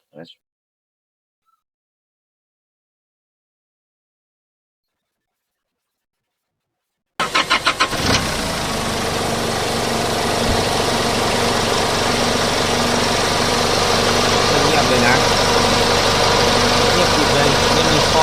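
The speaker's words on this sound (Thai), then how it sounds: "นิสสันนาวาร่าคันนี้น่ะเดี๋ยวลองสตาร์ทเครื่องให้ฟังนะ" A Nissan Navara D40 pickup's engine cranks and starts after several seconds of silence, then settles into a steady, loud diesel-like idle with a rough, knocking vibration.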